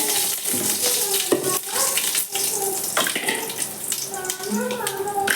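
Curry leaves tossed into hot oil with cumin and mustard seeds give a steady, close sizzle and crackle throughout, with a few clatters of utensils.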